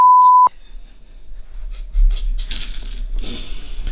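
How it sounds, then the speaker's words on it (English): A steady censor beep tone covers a swear word for about half a second, loud and clean, then cuts off abruptly into quieter room noise and talk from a tabletop wargaming session. "No, it'll get beeped."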